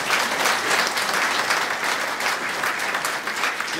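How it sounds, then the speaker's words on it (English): Steady, full applause from the audience at a Holocaust by Bullets opening program, a continuous wash of clapping throughout with no voice over it. "You can applaud because he represents the 28 people."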